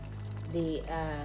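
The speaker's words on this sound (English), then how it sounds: "Just pour some of the sauce in there" Spaghetti sauce poured from a container into a cooking pot, a short glugging pour lasting about a second, close and moderately loud over a steady kitchen background.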